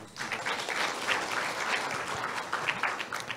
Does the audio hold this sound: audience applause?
yes